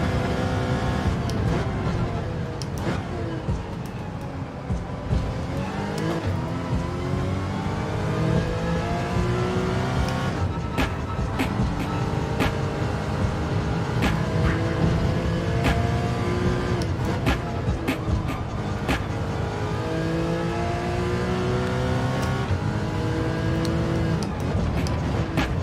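Race cars in Gran Turismo 7 at Laguna Seca, loud and continuous engine revving with repeated upshifts and pitch sweeps as cars accelerate and pass, filling the whole stretch with no talking.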